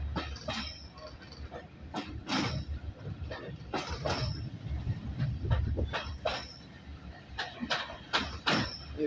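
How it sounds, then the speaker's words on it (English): Goods trains rumbling past a moving heritage steam train on the line between Corfe Castle and Swanage, with repeated rail clatter and metallic clicks over a steady low rumble. "Here we go, some more goods trains."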